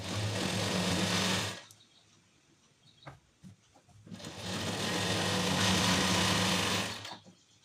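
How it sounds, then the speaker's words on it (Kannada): A sewing machine stitches the inner seam of a blouse lining, running in two long, steady whirring bursts with a short quiet pause between them that holds a few faint clicks and handling sounds, close up and with no talk. "ಇದ್ರ ಮೇಲೊಂದು ಇನ್ನರ್ ಸ್ಟಿಚಿಂಗ್ನ ಹಾಕಬೇಕು."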